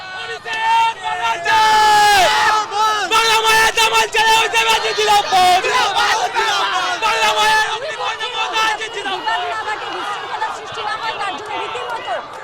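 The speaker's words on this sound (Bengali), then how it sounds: "স্লোগান পাল্টা স্লোগান চলছে" Crowd of BJP party workers and supporters shouting slogans and counter-slogans at a road show, a loud dense hubbub of many raised voices and whoops filling the whole stretch without pause.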